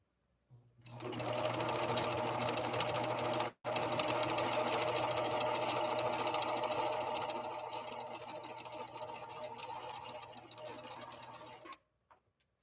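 A Viking Husqvarna 6430 sewing machine stitches a stretch blind hem, with a steady loud motor hum and rapid needle clatter running for about eleven seconds. The stitching breaks off for an instant partway through, then carries on.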